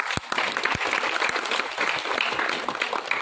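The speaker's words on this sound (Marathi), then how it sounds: "सगळ्यांनी जोरदार टाळ्या वाजूया" An audience at a drama event for a child performer claps in steady, dense applause, close and loud throughout, with a few sharp individual claps standing out.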